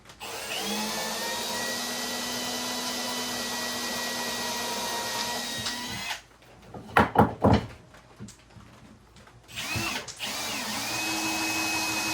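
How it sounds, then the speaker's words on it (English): A power drill countersinks screw holes in a woodworking piece, droning steadily and loud for about six seconds before stopping, followed by a few short bursts and a brief restart near the end. "These screws that are holding this in will be up against the wall, so I need them countersunk."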